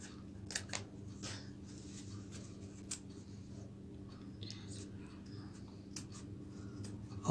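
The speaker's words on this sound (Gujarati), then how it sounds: "એક્સ્ટ્રા ચેન કટ કરી કાઢી છે." Scissors snip through the extra zipper chain of a handmade fabric mobile pouch, a few faint, quiet clicks and cuts scattered over a low steady background hum.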